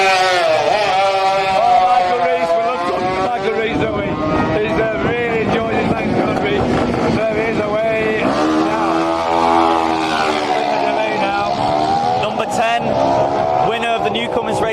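A two-stroke racing motorcycle at the Manx Grand Prix Lightweight race revs hard and loud with a rising, buzzing engine pitch that sweeps up and down through gear changes, while a commentator talks over it.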